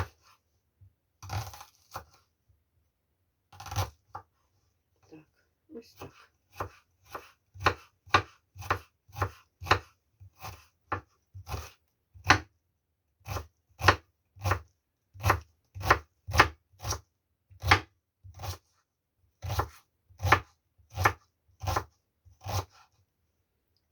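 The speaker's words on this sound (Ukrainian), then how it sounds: "Беру я цибулю, розрізаю і буду кришити її на дрібні такі" A knife chops onion into small cubes on a board, a fast, steady run of crisp close knocks after a few slower opening cuts.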